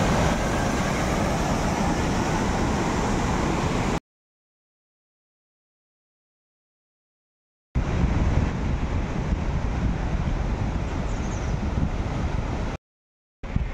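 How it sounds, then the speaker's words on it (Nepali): A big mountain river on the Annapurna trail in Nepal rushes in a dense, constant roar, heard close and loud in two stretches separated by sudden silence. "खतरा ठुलो खोला"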